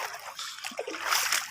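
Someone wades through knee-deep clear sea water at a beach, producing soft sloshing and splashing, fairly quiet and close, with irregular bursts of water movement.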